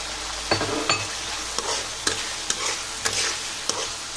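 Whole garlic is stirred into a frying dried coral fish masala, giving a steady sizzle broken by regular, close scrapes and knocks of a spoon against the pan, about every half second.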